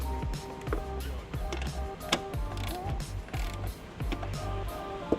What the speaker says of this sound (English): We'll take our ratchet, just hit them once, just to make sure that they're good and snug.